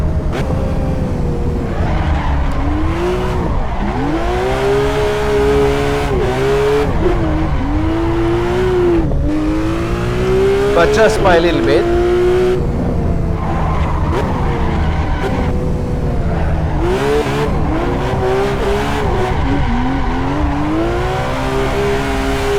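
A Porsche GT3 RS drifts in the racing game Assetto Corsa, its engine revving hard and falling repeatedly while the tires squeal in long loud screeches, with someone briefly talking over it.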